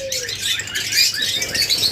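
Pet birds, including lutino red-eye birds kept in pairs at a breeder's farm, chatter and chirp continuously and loudly at close range, with bright overlapping calls filling the scene and no voices.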